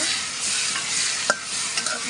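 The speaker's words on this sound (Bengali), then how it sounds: "সব একসাথে দিয়ে নাড়াচাড়া করে নিব" A steady sizzle of spice paste, including green chilli paste, frying in a pan, with a spoon scraping and stirring through it and a couple of sharper clinks near the end.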